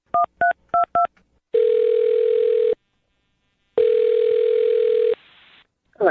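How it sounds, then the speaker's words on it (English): A telephone keypad beeps out four quick dual-tone digits, followed by two long, loud, steady ringback tones separated by silence, all close and clear with no talking. "I'm dialing her phone number right now"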